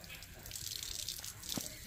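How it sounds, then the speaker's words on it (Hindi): Fresh water runs from a tap in a steady splashing stream, with a brief drip or clink near the end and faint voices in the background. "पानी ये टूटी है अच्छा देखो वाह वाह ताजा पानी है"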